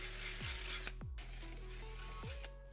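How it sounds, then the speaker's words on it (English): Power drill enlarging existing holes to fit a Tusk skid plate on a Kawasaki KRX 1000. The motor runs steadily and faintly, and its pitch dips sharply three times as the bit bites and slows. There is no speech. "we need to drill the existing holes out"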